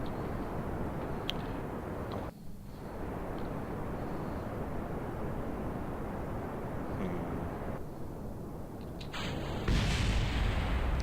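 A spacecraft part blows up in Kerbal Space Program, a faint muffled boom set against a steady roar of rocket engine noise that runs throughout.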